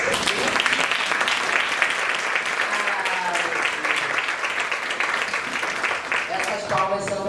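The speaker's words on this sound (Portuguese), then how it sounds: "Essas palmas são para ele." Sustained audience applause fills the room at a therapy presentation on neuropediatrics, a dense steady patter of many hands clapping, with a voice briefly audible near the end.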